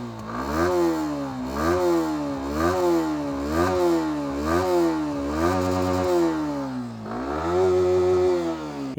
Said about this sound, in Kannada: ಸೊ ಗಾಡಿ ಎಕ್ಸಾಸ್ಟ್ ನೋಟ್ ಕೇಳಿಸ್ಕೊಬೋಣ.